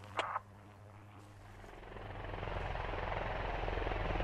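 A helicopter in the video game Squad flies overhead, its rotor chop growing steadily louder as it approaches, after a brief sharp click at the start.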